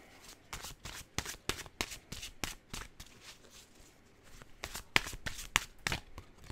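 A deck of emotion cards for a tarot reading is shuffled close up, a quick run of crisp riffling flutters repeating steadily with brief pauses between them, quiet and alone.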